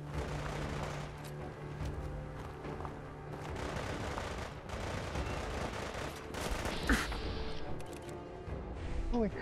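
Dense, steady gunfire rakes toward the player in a robot shooter video game, sharp bursts and booms layered into continuous noise with no pause, fairly loud throughout.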